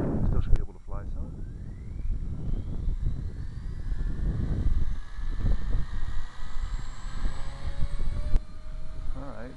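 A Trex 250 flybarless radio-controlled helicopter flies outdoors on a windy day. Its rotor and motor whine runs steadily throughout with rising and falling pitch sweeps, partly under wind noise and nearby handling sounds.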